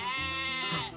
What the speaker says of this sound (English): We have Lady Baba, the sheep